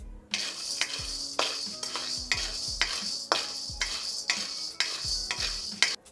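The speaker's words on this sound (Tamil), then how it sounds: "இப்போ நம்ம நிலக்கடலை வறுத்துக்கலாம்" Peanuts dry-roasting in a pan as a spoon scrapes and stirs them, a repeated close clatter of strokes roughly every half second over a faint sizzle.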